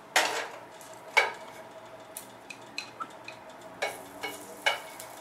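Pork frying in oil in a pan, with sharp intermittent clatter and scraping of a utensil against the pan over a low, steady sizzle, heard close with no talk.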